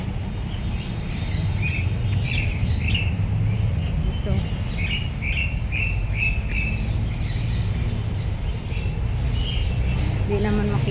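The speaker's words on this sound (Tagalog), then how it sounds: "Mga ibon. Yun. Dami. Puro ibon." Many small birds chirp and tweet in quick repeated bursts in a wildlife park aviary over a constant low hum, with a brief spoken word in between.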